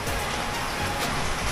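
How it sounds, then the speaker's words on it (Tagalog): Heavy, non-stop rain pours down outdoors during a flooding downpour, a dense, steady hiss that stays loud and even throughout, with no voices. "So non-stop yung ulan"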